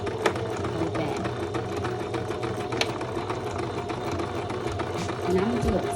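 A sewing machine back-stitches satin fabric for a bag, running steadily at close range with a continuous mechanical whir and faint clicks, over a low hum throughout.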